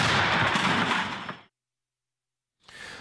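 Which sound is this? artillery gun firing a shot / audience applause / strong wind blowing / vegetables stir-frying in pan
artillery gun firing a shot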